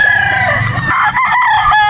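A gamefowl rooster crows loudly and nearby at a game farm in Batangas, one long, strained call that fills the whole stretch.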